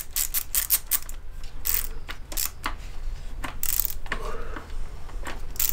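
A ratchet tightening a bicycle part in a garage workshop, making quick rapid clicking bursts with metallic taps, close and fairly loud with no talking.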